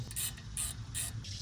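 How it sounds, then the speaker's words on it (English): A hand ratchet tightens the brake rotor set screws on an Acura ILX, sounding as quiet, rapid clicking in three or four short back-and-forth bursts. "First thing is to put in your two rotor set screws."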